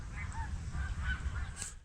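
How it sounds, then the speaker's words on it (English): Geese honk repeatedly while flying north in early spring, the calls overlapping in a loose flock over a steady low rumble of wind or background noise. "All the geese are returning, flying north now."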